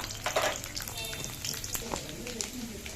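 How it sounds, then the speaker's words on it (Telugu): Cumin, mustard seeds, garlic and dried red chilies fry in hot oil in a kadai, giving a close, crackling sizzle with sharp pops and spatters throughout. "జీలకర్ర, ఆవాలు వేసానండి, వెల్లుల్లి వేసాను, ఎండుమిర్చి వేసాను"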